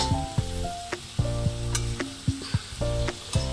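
Jackfruit paste sizzles in a wok with no water added, a steady frying hiss broken by several sharp scraping stir strokes at close range. No voices are present.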